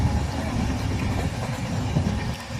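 Steady low rumble of a train stopped at a station, with a faint rattle of carriages, continuous and fairly loud, no voices.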